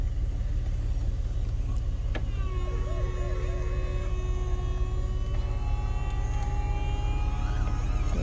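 A car's convertible top powers up with a steady electric motor whine that rises and wavers over a constant low engine rumble, ending with a soft thunk as it closes.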